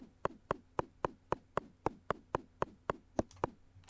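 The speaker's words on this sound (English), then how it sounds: "I wonder if I could break it with a hammer" Hammer repeatedly striking a skeleton statue in the PC game Junk Jack: about fourteen crisp, evenly spaced knocks, each a short hollow tap with a brief ring, loud and close against near silence.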